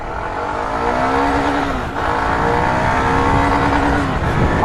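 Engine revs climb in a loud, sustained rising whine as a motorcycle pulls hard toward 8000 rpm, a steady roar with a brief dip partway before it builds again.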